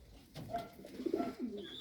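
A breeder racing pigeon, set for breeding in a loft, gives a few soft, throaty coos close by with short pauses between them, over a quiet background.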